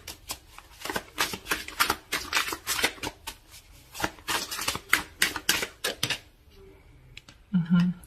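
Tarot cards shuffled and drawn by hand in a close, steady flurry of crisp riffling clicks, then brief quieter handling as a single card is pulled out.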